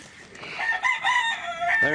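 Chickens making harmonic calls and clucks up close, one brief rooster-like crow among them, with outdoor background noise.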